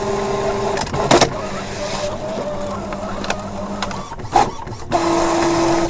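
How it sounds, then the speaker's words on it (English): A desktop printer whirs and clicks as it wakes and prints out a paper template, with steady mechanical drive noise, a couple of sharp clunks and a tonal motor hum, fairly close and without talk. "The printer's waking up,"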